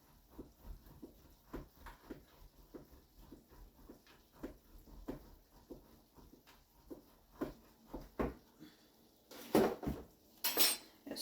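A utensil stirs tomato and mushroom pasta in a pan, tapping and scraping in a quick, steady rhythm of close metallic clicks, with a few louder clatters near the end.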